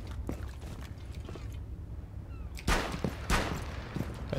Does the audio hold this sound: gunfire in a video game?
yes